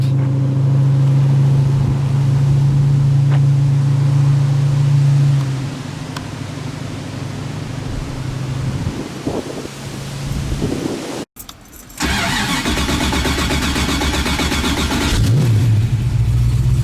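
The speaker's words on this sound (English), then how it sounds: "Listen to that burble." A loud 1968 Ford Mustang V8 engine burbles with a deep, uneven rumble, briefly cutting out before revving back up with a rough, throaty roar.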